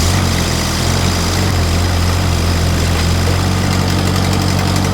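A tractor engine runs during a test, a loud, steady mid-pitched idle with constant low throbbing and vibration, close by.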